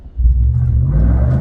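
A Ram 1500 pickup on 33x12.5 mud-grip tires revs under throttle pedal input, a deep close engine rumble that swells quickly and holds steady and loud to the end.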